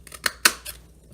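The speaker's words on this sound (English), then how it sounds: "put your designer series paper in there, push it all the way, make sure that on the back that it's gone all the way to the top, and just give it a punch" Scalloped tag topper punch cutting through designer series paper, a few sharp, close mechanical clicks and snaps in quick succession, the loudest in the middle, then quiet.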